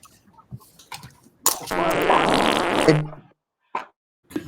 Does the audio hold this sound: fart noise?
yes